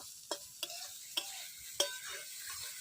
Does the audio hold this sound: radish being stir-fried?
yes